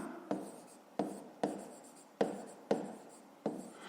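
Handwriting of a maths solution with pen on paper, heard as six separate bursts of scratchy strokes, each starting with a sharp tap and then a short trailing scrawl, close and fairly quiet.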